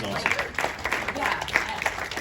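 Audience clapping at a SXSW session, a moderate patter of hands that stays fairly steady and mid-distance, with voices talking over it.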